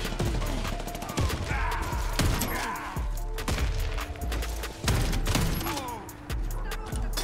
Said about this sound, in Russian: это очень сильный дробовик